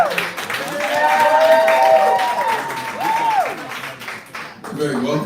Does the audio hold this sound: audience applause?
yes